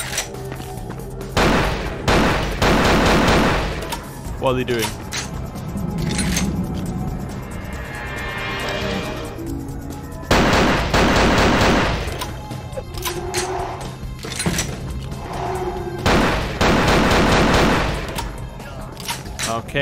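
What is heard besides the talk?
explosions and gunfire in the video game Vampire: The Masquerade – Bloodlines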